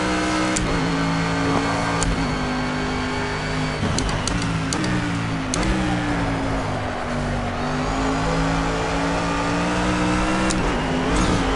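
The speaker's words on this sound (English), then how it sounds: "what I'd more say about the Mercs is that I'm not a big fan of the noise they make" A Mercedes race car engine in Project CARS drones loudly and continuously, its pitch rising and falling through gear changes and corners, with occasional sharp shift blips and no talk.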